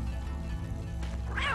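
A cat meows in the video game Tenchu, a single drawn-out, rising-and-falling call near the end, over a steady low in-game ambient drone.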